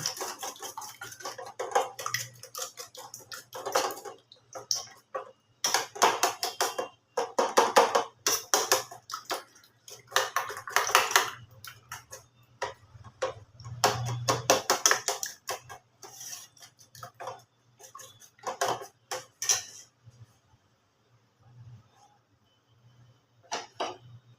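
Eggs being beaten with salt and chilli in a bowl: rapid, irregular clinking of a utensil against the bowl in bursts, with brief pauses between, close and fairly quiet.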